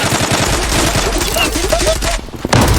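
Rapid automatic gunfire from the online shooter Zula during a clan match, loud and close, with rattling bursts in a fast rhythm that run the full three seconds over game sounds, while a player's voice talks over part of it.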